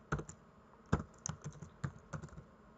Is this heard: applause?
no